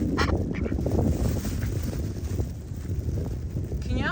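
Ducks quacking at a windy lake, a dense continuous chorus of calls under strong wind rumble throughout.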